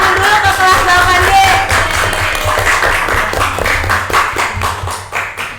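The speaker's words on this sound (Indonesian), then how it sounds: "Kita kasih tepuk tangan dulu ke kelas 8D." A school class claps for class 8D, a burst of many hands clapping together in a room, loud and close, with some voices mixed in before the clapping thins out toward the end.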